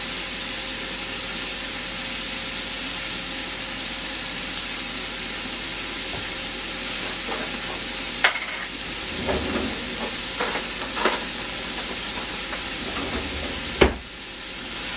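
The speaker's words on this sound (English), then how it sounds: "I let this cook for about 10 minutes, the onion, the tomato." Onion and tomato sizzle softly in a pan with a steady, even hiss, broken by a few stirring scrapes and clicks near the end.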